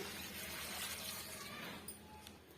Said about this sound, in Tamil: இப்போ பீன்ஸ் முங்குற அளவுக்கு நம்ம தண்ணி சேர்த்துக்கலாம்